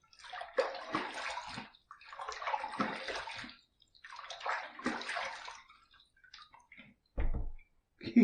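A razor gets rinsed in water after a shave, heard as several splashing gushes of running water, followed by a few small drips and a sharp tap near the end.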